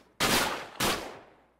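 Two sharp gunshots into sacks in the survival game Raised in Oblivion, about half a second apart, loud and close, each with a fading tail.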